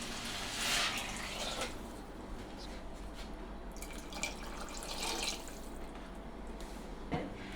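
Tap water runs steadily into a sauce pot, about two and a half cups for a shrimp broth, a continuous close splashing hiss with a brief clunk near the end.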